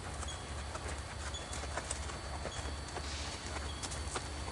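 Young five-year-old horse Sadie walking out during a vaulting session, hooves clip-clopping in a steady, fairly faint rhythm over a constant low background rumble, with no talking.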